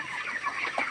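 Poultry eating special feed, soft close clucking and murmuring from chickens over a brief stretch, with no talk.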